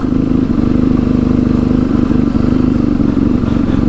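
A motorcycle rides through sand on a group ride to the Cleethorpes coast, its engine a steady, loud, close drone with a fast throbbing pulse and no clear change in pitch.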